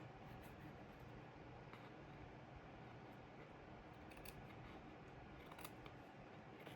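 Quiet, steady snipping of scissors under a constant background hiss, with a few sharper clicks near the end.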